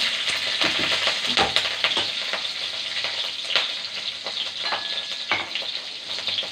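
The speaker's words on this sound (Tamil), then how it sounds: "பச்சை மிளகாய் போட்டுக்கலாம்." Green chillies dropped into hot oil for a banana stem kootu, giving a close, steady crackling sizzle with scattered sharp pops that runs for the whole stretch, with no voices.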